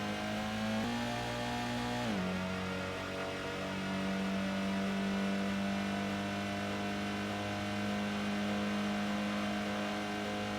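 Concept car racing on the High Speed Ring in Gran Turismo 1, its engine holding a loud steady drone with a brief dip in pitch near the start before it settles into a sustained high whine.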